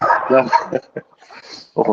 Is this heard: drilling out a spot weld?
no